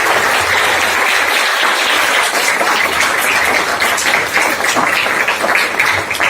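Loud, sustained audience applause filling a lecture hall after an academic talk on educational research, dense steady clapping with no voices throughout.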